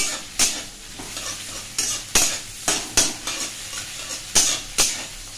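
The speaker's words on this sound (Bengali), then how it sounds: "কাঁচা লঙ্কা, পেঁয়াজ আর একটু শুকনো লঙ্কা দিয়ে জিরে ফোড়ন দিয়ে ভালো করে নিয়ে ডালটা সাঁতাল দেবো" Cumin seeds, dried and green chilies and onion sizzling in hot oil for a dal tempering, a soft frying hiss broken by repeated sharp scrapes and knocks of a spoon stirring in the pan, close, no talking.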